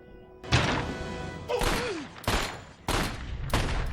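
Gunshots from the 1998 film American History X: five loud, sharp blasts spaced about a second apart, each with a booming echo that dies away, and a brief wavering cry between the first shots.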